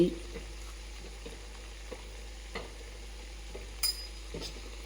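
Potato stir-fry with spices being stirred in a pan, a soft low sizzle under scattered light scraping and clinking of a spoon against the pan.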